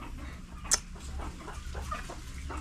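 Chickens cluck softly in short, scattered notes over a steady low outdoor rumble, with one sharp chirp standing out.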